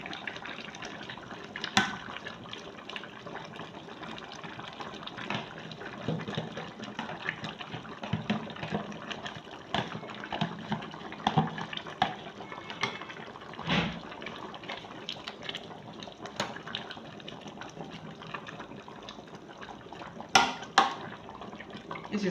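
Nigerian atama (banga) soup boiling in a pot, with soft irregular bubbling and occasional pops and clicks of the liquid at a moderate, close level, with no talk.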